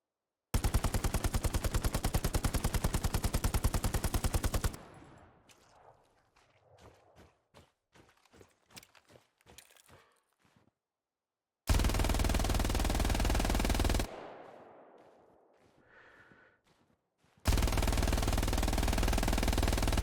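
Bursts of MG42 machine gun fire in the Hell Let Loose shooter, heard as extremely rapid, loud, continuous automatic rattles lasting several seconds each. The bursts are separated by quieter stretches of footsteps and spent casings clinking.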